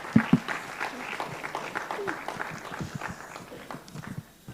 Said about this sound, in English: Let's clap hands for them as they sit down.